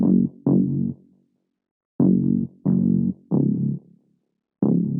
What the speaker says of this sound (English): the Delta bass in Nexus 3